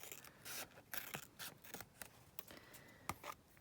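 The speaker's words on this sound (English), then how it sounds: "just going to quickly again trim that up where that laminate's overhanging" Scissors snipping away overhanging laminate film on a handmade laminated envelope pocket, a string of short, quiet cuts and rustles in uneven rhythm, close and soft with no voices.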